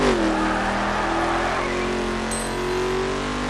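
A Mustang races in the video game The Crew, its engine holding a steady sustained drone at high revs after a brief early pitch drop, loud and close with no voices.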